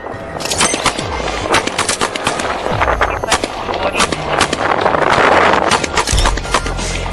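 Police fire a volley of gunshots in a dense, rapid series of loud, sharp cracks and booms, with a muffled voice briefly underneath.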